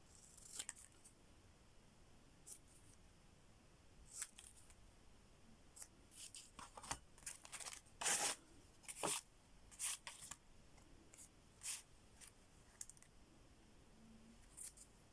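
Scissors cut around a handmade paper Christmas tag made from brown paper bags, with a string of quiet, close snips in irregular clusters of sharp crisp clicks.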